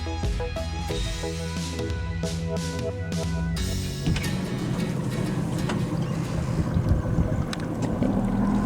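A small boat out on the water, with wind buffeting the microphone; tonal hum and clatter give way to a louder, continuous rushing noise, and nobody speaks.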